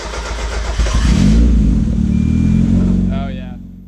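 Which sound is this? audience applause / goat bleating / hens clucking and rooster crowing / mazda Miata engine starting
mazda Miata engine starting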